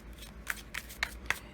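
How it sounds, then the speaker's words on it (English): A deck of tarot cards is shuffled by hand close up, giving four quick, crisp riffling bursts at a steady pace, fairly quiet with no talk. "Okay, so they're pretty shuffled. Let's just do one more here."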